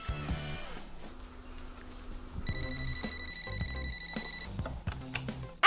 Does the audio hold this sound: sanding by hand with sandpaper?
no